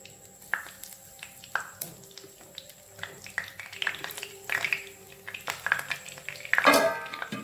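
Leftover kothu parotta cutlets fry in a little hot oil in a pan, giving soft, scattered sizzles and crackles broken by clinks and scrapes of a utensil, close by, with a brighter burst of spattering near the end.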